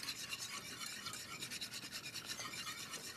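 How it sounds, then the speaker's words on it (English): A whisk scrapes and swishes rapidly through sauce in a pan in a professional kitchen, a quiet, even rasping rhythm of quick strokes with no talking. "So I'm whisking this in here now."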